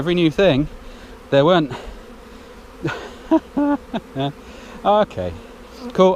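A mega swarm of bees buzzes in the air around a hive, a close, wavering drone that rises and falls in short bursts while a beekeeper speaks intermittently.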